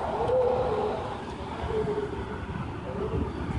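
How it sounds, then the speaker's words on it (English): A taxi passes on a street, its engine and tyre noise a broad, steady rumble that swells near the start and then slowly fades as it drives away. "That's just a taxi."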